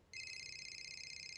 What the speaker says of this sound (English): yep, that's my phone ringing.